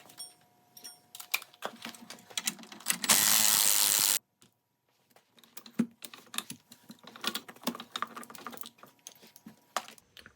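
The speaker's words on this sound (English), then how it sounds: "I'm going to remove the spring compressors and decompress this OEM spring" Spring compressors being backed off a stock coil spring from a Toyota GR86 during a lowering-spring swap: close, repeated ratcheting clicks and mechanical taps, broken by a dense second-long burst of tool noise, with scattered clanks afterward.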